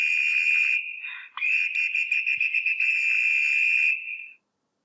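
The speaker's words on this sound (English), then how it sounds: "when you blow a whistle." A shrill whistle blown in one long sustained blast, briefly broken and then trilling on, loud and close, ending abruptly.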